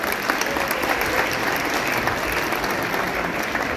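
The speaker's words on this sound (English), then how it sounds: "giving a big round of applause" An audience at an ISKCON Toronto Gaura Purnima lecture applauding to welcome the speaker, dense steady clapping from a large crowd that fills the room without pause.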